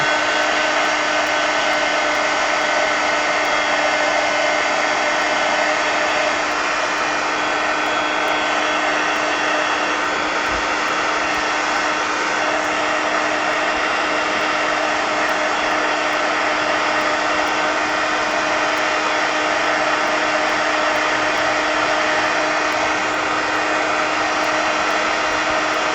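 A handheld hair dryer runs steadily on art cards for the full stretch, a loud, unbroken close-up whir with a constant hum and no pauses.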